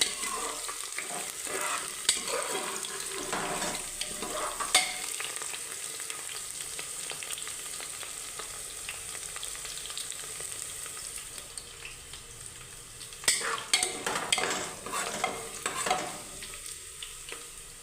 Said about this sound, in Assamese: ৰিফাইনটো ৰঙা হ'ব লাগিব পিঁয়াজটো ভাজি ভাজি